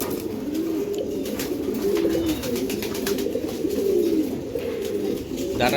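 Several Giribaz pigeons coo together close by, rolling low calls overlapping in a steady chorus with soft intermittent rustling.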